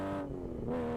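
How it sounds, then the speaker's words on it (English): A Triumph race car four-wheel drifts through a hairpin at a Curborough sprint, its engine giving a brief, sustained, moderately distant drone. "It's drifting on me, four-wheel drift."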